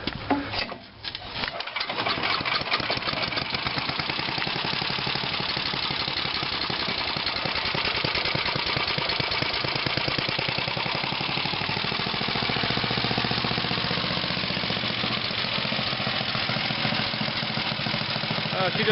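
A warm Tecumseh engine on a 1998 MTD Yard Machines chipper/shredder starts after a short pull, then settles into a loud, steady, close running drone that holds without a break.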